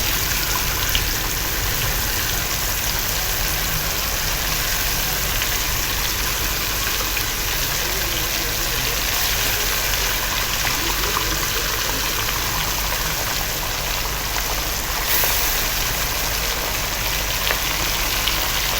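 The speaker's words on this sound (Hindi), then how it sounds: "बस इसी तरीके से मीडियम फ्लेम पे हम इसको फ्राई करेंगे।" Fish pieces frying in hot oil over a medium flame, a constant dense sizzling crackle, fairly loud and even throughout, with no talking.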